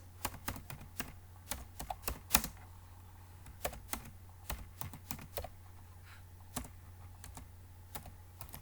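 Typing on a computer keyboard while writing in a word processor: irregular bursts of crisp key clicks, close and fairly quiet over a low steady hum, with no talking.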